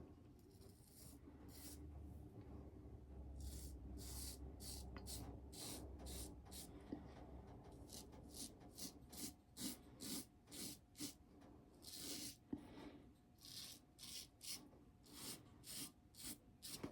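GEM Micromatic Bullet Tip razor shaving stubble, close and quiet: a steady rasping drag at first, then a run of short, rhythmic scraping strokes, each a crisp bristly crackle, with a low background hum.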